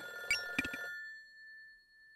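A telephone rings in the video game Sakura Sakura: a few quick electronic ring bursts close together, then a lingering tone that fades to silence.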